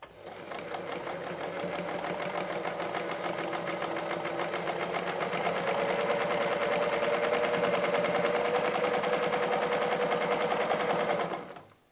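A sewing machine stitches an extra quilted seam for a vine quilting motif, its needle running in a fast, steady mechanical rattle for the full stretch, loud and close with no talking.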